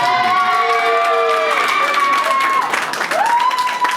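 Guests at a civil wedding clap and cheer together, loud close applause mixed with high excited shouts and whoops, a lively crowd sound held steady throughout.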